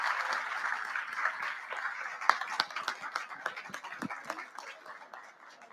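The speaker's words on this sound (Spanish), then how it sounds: "Un aplauso para el maestro" An audience claps for a maestro at a National Theatre Day event, a steady wash of applause running throughout with scattered louder individual claps, moderately close.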